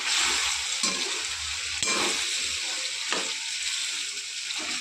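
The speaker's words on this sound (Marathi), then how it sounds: "बघा आता असं केलं आपण भाजून तेलामध्ये" Brinjal roasting in oil in a pan gives a steady, close sizzle with broad hiss, broken by a few sharper bursts where the pieces are turned, and no voices.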